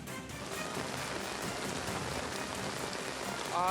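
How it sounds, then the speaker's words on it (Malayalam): Heavy rain pours steadily, a dense even hiss of drops hitting surfaces, constant and close throughout with no talking. "കണ്ണൂരിൽ ഇപ്പോൾ മഴ വീണ്ടും ശക്തമാകുന്ന ഒരു സാഹചര്യം തന്നെയാണ് ഉള്ളത്"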